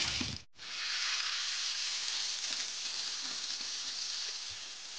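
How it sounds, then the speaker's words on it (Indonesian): Ground spice paste sautéing in a pan gives a continuous close sizzling hiss that holds steady for several seconds after a brief gap at the start. "Dan ditumis sampai bumbu matang."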